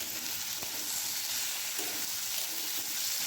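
Cauliflower stems and three teaspoons of white mustard paste are stirred in a hot pan. A steady, close sizzling hiss runs throughout, with faint soft knocks from the stirring.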